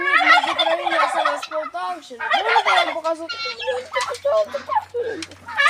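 Turkeys gobble repeatedly in bursts close by, with chickens clucking, and a person talks in the background.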